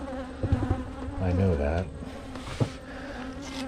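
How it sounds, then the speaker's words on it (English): Honey bees buzz in a dense, agitated hum during a hive inspection at an apiary before a storm. The swarm sounds close and continuous, and someone speaks briefly over it. "Bees do tend to get a little more grumpy if you're messing with them when it's going to storm."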